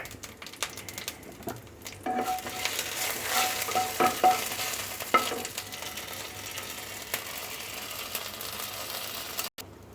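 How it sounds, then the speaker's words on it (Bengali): Panch phoron five-spice mix fries in hot oil, a close, steady sizzle with stirring scrapes and a few sharp clicks, continuing without speech. "আমার পাঁচ মশলাটা ভাজা হয়ে গেছে"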